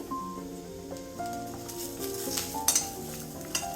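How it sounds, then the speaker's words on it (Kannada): Curry leaves fry and sizzle in a hot pan, giving a soft, steady crackle with light stirring and a few faint utensil clinks. "ಒಂದು ಎರಡು ನಿಮಿಷದಿಂದ ಇದು ಫ್ರೈ ಆಗ್ತಾ ಇದೆ ಈಗ ನಾನು ಒಂಚೂರು ಕರಿಬೇವು ಹಾಕೋತಾ ಇದ್ದೀನಿ"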